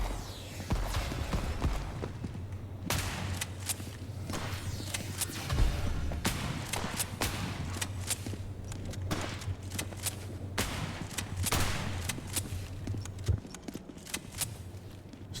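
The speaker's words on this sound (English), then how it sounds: "No, I hear footsteps." Repeated footsteps in the video game Oasis Mission: Colony Sim & Metal Garden land as sharp, irregular thuds and clicks over a steady low electrical hum, with occasional louder impacts scattered across the stretch and no talking.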